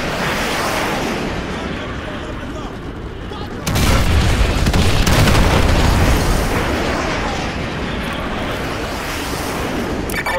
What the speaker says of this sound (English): Ramirez, use your laser designator to call in artillery on those vehicles. Fire mission received. Artillery inbound.